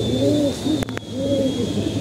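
A pigeon coos in soft repeated rolling phrases, close and steady, with a brief clatter partway through and a faint constant tone behind.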